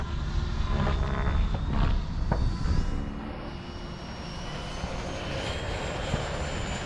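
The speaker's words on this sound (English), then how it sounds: "There it goes. F-16. Gear up." E-flite F-16 Thunderbird RC jet with 6S electric power taking off from a runway on its maiden flight, a steady rising whine and whoosh that builds, then fades as the model climbs away, with no voices.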